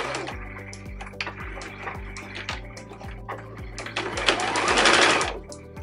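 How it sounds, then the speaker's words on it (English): A sewing machine stitches three sides of a fabric bag for a mason jar with a half-inch seam allowance and back stitches at start and stop, giving a steady, close whirring run of rapid rhythmic thumps that swells louder near the end. "just stitch down the 3 sides with a 1/2 inch seam allowance, doing a back stitch at the start and the stop."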